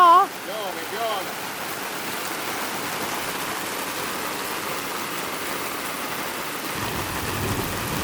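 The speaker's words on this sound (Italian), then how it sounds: "Sta piovendo un po'? Piove." Steady rain in Colombia patters across the whole stretch, a dense even hiss of drops with a faint voice-like tone at the very start.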